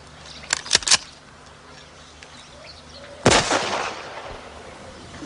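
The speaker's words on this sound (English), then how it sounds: "Fraser, fire a shot over their heads." A rifle shot fired over people's heads, a sharp broadband crack near the middle of the clip, preceded by a few lighter clicks and knocks, then fading.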